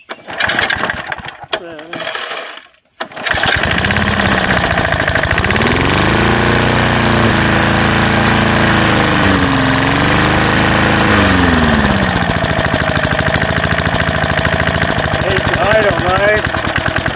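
An old Cooper Cyclo-Vac lawn mower, about 50 years old, sputters briefly, then catches and runs steadily close by, its small engine droning loud and continuous with slight speed wobbles, while a voice talks intermittently over it.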